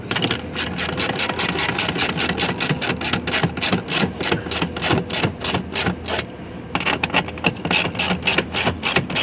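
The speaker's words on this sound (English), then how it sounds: "we're going to take our 10mm socket and we're going to go ahead and tighten these up." A 10mm socket ratchet tightens machine-thread bolts on a 2020-2025 Land Rover Defender, giving a rapid, steady run of close, sharp clicks with a brief pause near the end and no talking.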